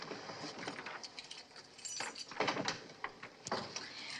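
A bunch of keys jangling and scraping as they are tried in a locked door, faint and close, with several small metallic bursts and clicks spread across a few seconds and no talk.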